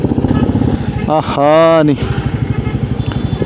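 Motorbikes among a dense crowd at a Maha Shivaratri fair, engines puttering with a rapid pulsing rhythm close by, while voices talk over them and a sustained tonal note briefly rises in the middle.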